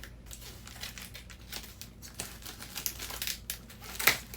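Plastic wrapping on a package crinkles and tears as it is cut open and pulled away, irregular close rustles and snaps building to a sharp rip near the end, with no voices.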